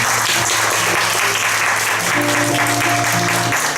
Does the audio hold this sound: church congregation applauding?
yes